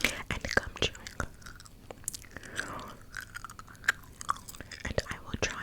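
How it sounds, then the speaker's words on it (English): Gum chewed up close to a sensitive condenser microphone, with wet, sticky smacks and clicks in an uneven rhythm, interspersed with soft whispering. "And I will try not to do the gum chewing too harshly"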